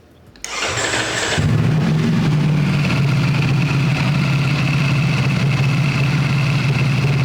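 A Ducati V4 SP2 motorcycle engine cold-starts, cranking briefly, then catches and settles into a loud, steady idle with a constant low hum, heard close up with no talking.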